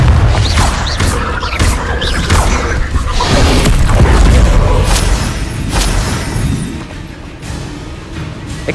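Confringo blasting spell in Hogwarts Legacy, heavy booming explosions and crashing impacts layered over a dense low rumble, loud and continuous, easing off slightly toward the end.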